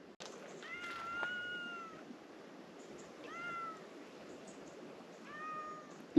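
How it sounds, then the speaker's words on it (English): A cat meows repeatedly in a workshop while a camper garage floor is being built for a Unimog, three drawn-out tonal calls spread over several seconds against steady low background noise. "The most talkative cat in the world."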